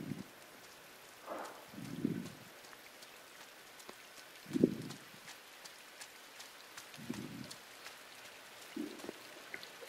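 Steady rain falls in the video game Inside, a continuous soft patter with several dull low thuds scattered through it, heard alone without talk.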